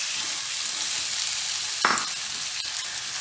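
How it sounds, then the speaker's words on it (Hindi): Marinated chicken being stirred and fried with onion, ginger and garlic for a chicken curry, a steady close sizzle throughout with one brief louder scrape of stirring midway. "तो चिकन को अच्छे से चला लेते हैं।"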